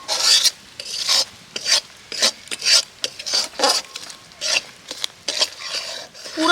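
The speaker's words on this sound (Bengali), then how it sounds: "ঠিক এই সময় আমি চিনিটাকে নেড়ে দেবো।" Melting sugar turning to caramel in a pan is stirred with rhythmic, rasping strokes, a dozen or so close scrapes in an even back-and-forth pattern.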